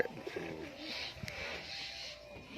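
Pigeons of the Teddy and Saharanpuri breeds coo softly in a loft, with low throaty coos and faint fluttering over a quiet room background.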